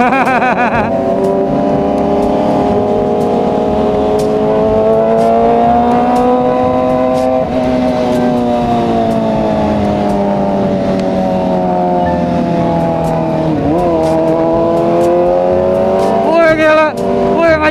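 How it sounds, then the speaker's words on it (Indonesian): Honda Vario 160 scooter racing along a road, its engine droning steadily and loudly up close, with pitch that rises and falls as it speeds up, plus wind noise. "Vario 160 ngajak balapan eh"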